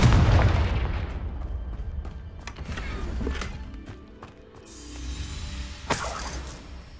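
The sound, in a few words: Confringo fire spell blast in Hogwarts Legacy video game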